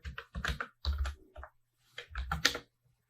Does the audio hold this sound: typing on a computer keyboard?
yes